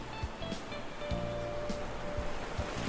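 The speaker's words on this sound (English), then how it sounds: "The sound of the waves rolling into the shore is like a lullaby." Waves roll steadily onto the shore in a video game, set at a seaside skyport in Wellington, New Zealand, in the Please Be Happy demo, a soft continuous wash with a faint tonal hum beneath.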